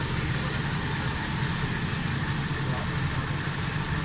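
A Suzuki Alto 1000cc engine with a black smoke and misfire problem runs steadily after a mixture adjustment, a continuous close idle hum with a faint high whine above it, and no break.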